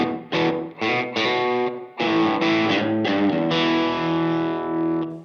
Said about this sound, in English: This is the sound of a room that is carpeted and like super dead